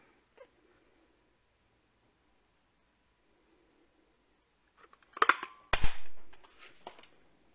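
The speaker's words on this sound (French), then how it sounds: "Je vais les découper directement avec ma perforatrice ronde." A round paper punch cutting through card for scrapbooking, a couple of sharp crunching clicks close up after a quiet stretch, followed by a short rustle of paper.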